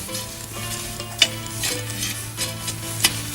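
Campfire embers being raked back outdoors, a continuous crackling hiss with occasional sharp scrapes and clicks over a low steady hum.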